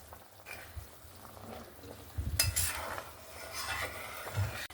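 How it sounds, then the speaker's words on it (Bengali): A spoon stirs a lentil fritter curry with potatoes in a pot after salt goes in, giving soft close scrapes and gentle clinks against the metal over a low simmering background, with no talking. "লবণটা দিয়ে আরেকবার নাড়াচাড়া করে দিলাম"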